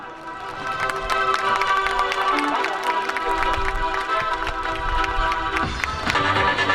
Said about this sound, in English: Let's give Ryan Reese a big round of applause, everyone.